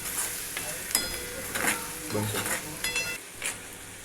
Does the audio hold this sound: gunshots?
no